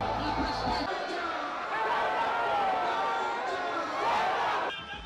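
Crowd of supporters at an APC presidential campaign rally for Bola Ahmed Tinubu in Minna, Niger State, a dense roar of chatter and shouting that stays loud and continuous, with voices mixed through the din.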